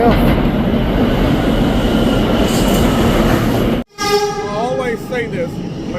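A New York City subway F train at Fourth Avenue, running toward Brooklyn, rumbles loudly and steadily through the station. After a brief dropout, wheels squeal against the rails in rising and falling tones while the car keeps clattering nearby.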